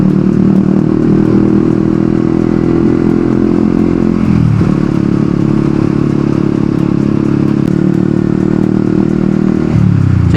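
A Yamaha R15 V3 motorcycle engine runs loud and close, holding a steady drone with two brief dips and recoveries as the throttle is worked, alone with no voices.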